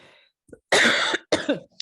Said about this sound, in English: Sorry, guys, for my cough.